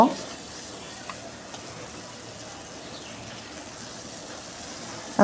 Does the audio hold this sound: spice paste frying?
yes